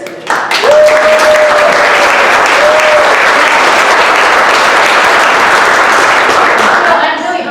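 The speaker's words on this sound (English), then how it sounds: "Round of applause for Julie for her commitment and dedication" Loud sustained applause from an audience at a care clinic's tenth anniversary celebration honoring a staff member, a dense continuous roar of clapping that swells quickly and holds steady, with a brief voice over it.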